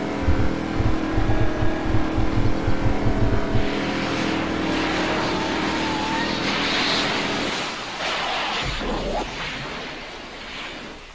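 A Back to the Future DeLorean-style car with big popcorn-popper exhausts driving in the Roblox game Greenville: a loud, steady engine drone with choppy pulsing at first, then whooshing, shifting road noise.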